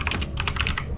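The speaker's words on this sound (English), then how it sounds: "you're going to want to come down to the search and you're going to type" Quick burst of typing on a computer keyboard into a search box, several crisp key clicks in rapid succession, close and clear with no talk.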